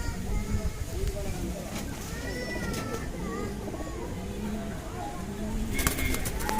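Several female pigeons of a Madrasi line coo in low repeated phrases as they are released, with bursts of wing flapping near the end, while someone talks over them throughout.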